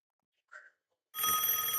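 A telephone bell rings loudly and continuously after a brief faint blip, a bright electronic ring that fills the second half of the moment with no talk over it.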